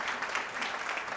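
An audience at a corporate HR summit panel claps to welcome a speaker, a brief burst of steady, moderately loud applause from a roomful of people.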